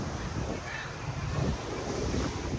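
Surf rolling in at Kite Beach, Jumeira, Dubai, a soft continuous wash of waves mixed with wind buffeting the microphone, fairly quiet and without talk.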